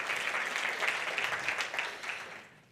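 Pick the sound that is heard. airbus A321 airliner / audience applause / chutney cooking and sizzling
audience applause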